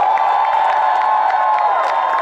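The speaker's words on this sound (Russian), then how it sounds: "Громче аплодисменты от крана." Studio audience at a TV show filming cheering and applauding, a steady, loud wash of many voices and clapping hands sustained throughout.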